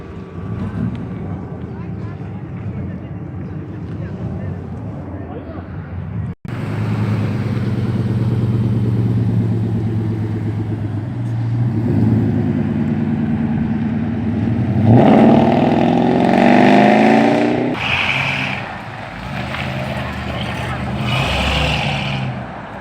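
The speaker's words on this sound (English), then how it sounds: "Definitely the loudest car here today." A loud hotrod engine revs hard while leaving a car meet, deep rumbling idle swelling into rising, climbing revs before settling back, close by, with people talking.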